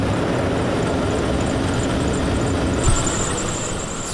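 A worn serpentine belt squeals on a Toyota Sequoia engine, a thin high-pitched whine sitting over steady engine rumble and idle, growing sharper near the end of a continuous, close-up recording.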